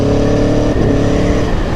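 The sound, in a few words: Aprilia Tuono V4 motorcycle accelerating and quickshifting through gears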